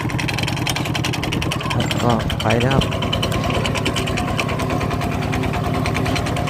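A walking tractor's engine runs at gentle revs while plowing fertilizer into furrows, giving a steady, close chugging drone throughout, with someone briefly speaking over it.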